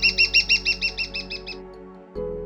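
A Magellanic woodpecker in a Patagonian forest gives a rapid series of about a dozen clear, high, ringing calls that steadily fade and slow, followed by a low rumble.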